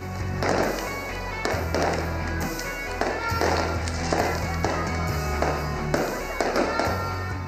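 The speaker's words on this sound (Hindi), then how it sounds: "आज़ादी का जश्न आतिशबाजी का शानदार मुजाहरा भी किया गया।" Dense, continuous popping and crackling of an Independence Day fireworks display in Pakistan, with repeated booming bursts, loud and steady throughout, with faint crowd noise beneath.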